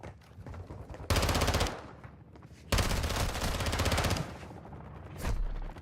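Sustained bursts of anti-aircraft gunfire in the video game Call of Duty DMZ, loud rapid rounds in long stretches broken by brief quieter gaps, with no talking over them.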